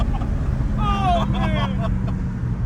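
Steady low engine drone from a 2000 hp Lamborghini under hard acceleration fills the whole stretch, with a man's excited exclamations rising over it partway through.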